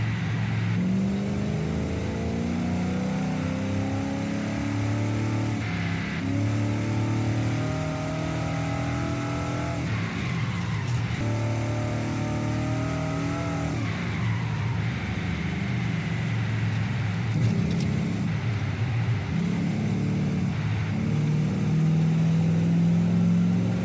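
Naturally aspirated, carbureted Australian-made car engine while driving, loud continuous revving that rises and falls through gear changes, heard from inside the car with no talking.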